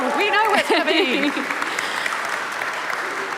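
An audience in a church hall in Leeds bursts into applause and cheering, a broad wash of clapping that carries on steadily after a voice speaks briefly over its start.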